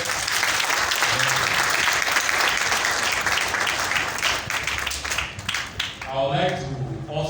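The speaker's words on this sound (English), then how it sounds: "I want you to give them another round of applause" An audience gives a sustained round of applause for music industry players, dense clapping that fades and thins toward the end as voices and other sounds emerge.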